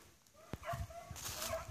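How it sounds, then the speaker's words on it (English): A hunting dog chasing rabbits in Missouri gives a few yips and bays at a distance, with a sharp nearby click or thud near the start. "Dog's got a rabbit going."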